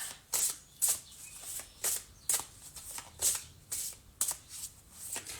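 A deck of cards is riffle-shuffled close up before one is pulled, with soft fluttering riffles repeating in a steady rhythm, quiet and alone.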